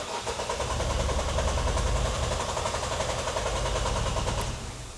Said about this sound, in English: I put a bit of easy start to see if we can start and run this engine.